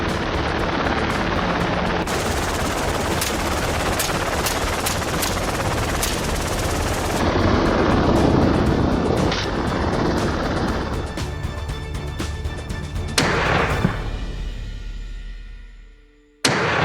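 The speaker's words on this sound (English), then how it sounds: "From the helicopter, a hunter aims an AR-15, taking down hogs with precision." Rapid AR-15 rifle fire from a helicopter during a Texas wild hog hunt, sharp repeated shots punctuating the steady loud rotor drone, which fades away toward the end.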